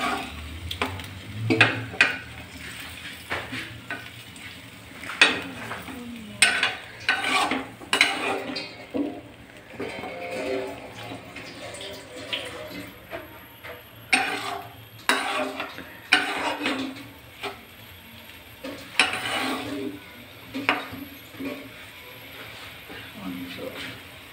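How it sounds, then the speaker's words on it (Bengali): Beetroot and fish curry stirred gently in a pan of oil, with intermittent scraping and clattering strokes over a low sizzle, and a voice talking between the strokes. "এগুলো আলতো আলতো হালকা করে নাড়িয়ে নেবেন"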